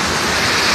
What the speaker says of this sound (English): this is a waterfall. It's Scallop Foss.